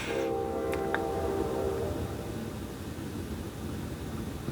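A train passes some way off, a sustained horn blast sounding at the start and fading within a couple of seconds, followed by a steady rumbling wash of rail noise.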